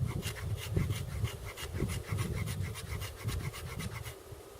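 The 90-degree spine of a knife scrapes fatwood into tinder, a rapid, rhythmic series of close, raspy strokes that repeat evenly for several seconds.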